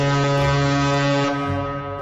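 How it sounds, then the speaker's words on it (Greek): A large cruise ship's horn sounds one long, loud, steady blast with a deep droning tone that holds for about two seconds, heard alone without talk. "δεν θα κορνάρει με τον φυσιολογικό τρόπο που κορνάρουν όλα τα πλοία"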